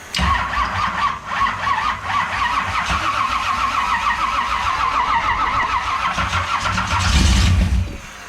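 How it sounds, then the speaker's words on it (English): A homebuilt car engine with a leaking header cranks, catches and settles into a rough, steady idle, loud and close, with a brief louder rev near the end. "Let's give that a shot, see if I can get an idle out of it."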